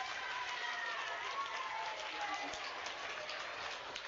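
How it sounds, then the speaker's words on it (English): Applause at a fifth grade DARE graduation ceremony, a faint, distant wash of clapping from the audience that holds steady for about four seconds. "Let's give quarter two a round of applause."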